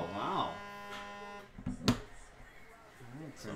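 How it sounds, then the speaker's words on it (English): A jammed printer runs, giving a buzzing motor whine with wavering tones, a brief louder grinding burst midway, then a quieter hum, with a voice briefly audible. "Oh no, the printer actually got stuck this time."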